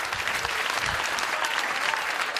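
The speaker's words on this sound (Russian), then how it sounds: "Ваши аплодисменты, пожалуйста." Steady audience applause in a theatre at a Russian comedy duo's stage show, a continuous even patter of many hands clapping at a moderate level.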